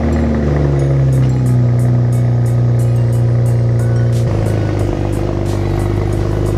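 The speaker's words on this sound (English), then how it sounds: "Just a small little cold start on my 335." A BMW 335 engine cold-starting: a loud, steady low idle drone that shifts pitch about two-thirds of the way through as the revs settle, with no one speaking.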